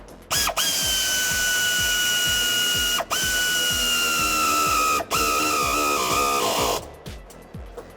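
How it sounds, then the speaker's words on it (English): An air ratchet tightens 9/16 shock nuts during a 1994-2004 Mustang Eibach Sport-System-Plus install: a loud, close pneumatic whine with rapid clicking runs in long bursts, broken by three brief pauses and cutting off near the end. "I'm going to use my air ratchet to tighten those down"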